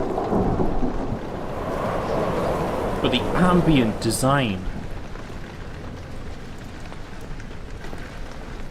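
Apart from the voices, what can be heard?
rain outside in Amnesia The Dark Descent video game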